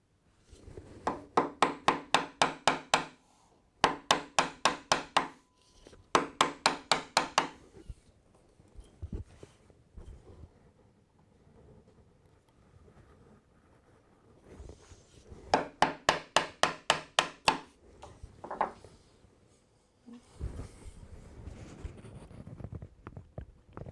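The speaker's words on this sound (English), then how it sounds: "Now I'm going to switch over to the big chisel to do the final pass." A sharp chisel is struck repeatedly into wood for the final pass of a hand-cut mortice, in quick rhythmic bursts of close, crisp knocks separated by quieter scraping and shuffling pauses.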